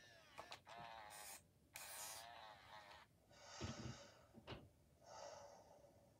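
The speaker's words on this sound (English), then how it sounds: "Makes this sort of heavy breathing sound." A Moose Toys Little Live Cuddles toy kitten lying asleep on its side gives a rhythmic run of wheezy, honking snore-like breaths, each rasping inhale and exhale close and distinct, with no talk over them.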